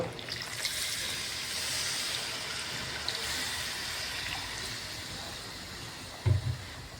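Water trickles and splashes steadily into a pan of curry cooking on the stove, a soft continuous pour lasting several seconds, closing with a couple of low thuds.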